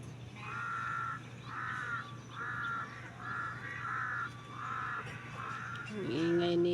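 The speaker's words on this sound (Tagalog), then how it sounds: "Ingay sa uwak, guys." Crows cawing repeatedly in a mountain forest, a steady series of harsh calls at an even rhythm, moderately distant and faint, with a brief voice near the end.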